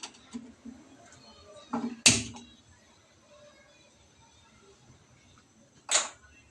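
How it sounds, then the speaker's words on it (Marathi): A gas stove being lit in a home kitchen, two sharp igniter clicks about four seconds apart, close and crisp, with faint handling noises between them. "चला तर मग पेटवते गॅस"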